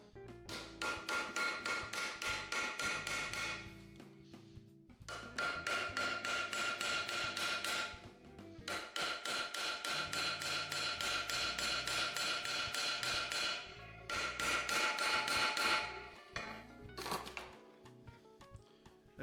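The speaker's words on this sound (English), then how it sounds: "We use them with a hammer." Rapid, steady hammer blows on solid rivets being set into copper sheet, loud and close, running in long unbroken bursts with short pauses between them.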